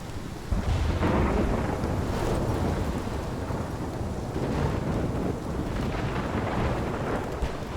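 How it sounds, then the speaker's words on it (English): A thunderstorm in the video game Life Is Strange Remastered rolls on as a loud, continuous rumble of thunder with rain and wind noise throughout, and no one speaks. "This is my storm."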